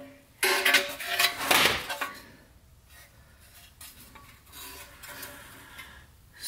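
A metal transmission pan for a Ford Explorer 5R55W is handled and shifted around, giving loud scraping, rattling metal clatter for a couple of seconds, then quieter intermittent rubbing and clinks close by.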